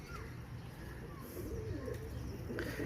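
A breeding pair of pigeons gives low, murmuring coos close by, set against a steady rumbling background noise for the whole stretch.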